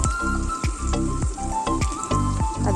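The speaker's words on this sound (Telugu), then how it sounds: "ఉల్లిపాయ పచ్చిమిర్చి వేసుకొని ఫ్రై చేసుకుందాము" Onion, green chili and curry leaves fry in hot oil for a shrimp and cucumber curry, giving a steady loud sizzle broken by repeated crackling pops and stirring clatters, with no voices.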